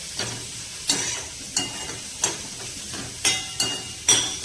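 Vegetables for Gujarati sev roll sautéing in a pan, a steady soft sizzle broken by sharp, regular scrapes of a spoon about every half second, close and clear with no talk.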